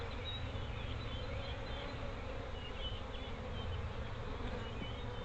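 Honey bees swarm and buzz around an opened hive box during a frame check, a dense, steady drone filling the air throughout with no one speaking.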